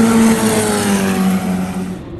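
A Formula 1 race car passes at the Singapore Grand Prix with a loud, sustained engine whine that dips slightly in pitch as it goes by, then trails off.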